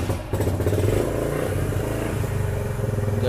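Yamaha YBR Z motorcycle engine idling and revving close by, a steady loud rumble with pulsing throttle under a bit of clatter, no talk.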